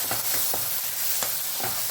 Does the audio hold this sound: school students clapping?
no